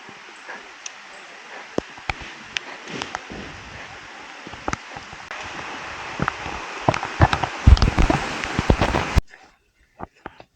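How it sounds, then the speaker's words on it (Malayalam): Rain patters steadily on a forest trail along the Erumeli–Karimala–Pampa pilgrimage route to Sabarimala, with scattered sharper drips and rustles up close, then it cuts out near the end. "മഴ മഴ മഴ."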